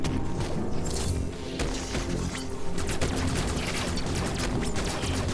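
Weapon fire against enemies in Metroid Dread, a dense run of sharp shots and impacts mixed with crashing effects, loud and continuous.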